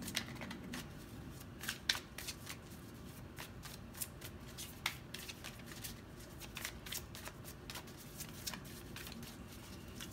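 Tarot cards are shuffled by hand in soft, quiet riffling bursts, a close papery flutter with small taps scattered through the stretch.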